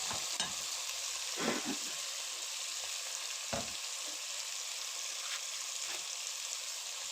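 Tomatoes fry with meat and onions in a hot pan for mash sorpa soup: a constant loud sizzle broken by a few sharp utensil knocks and stirring scrapes.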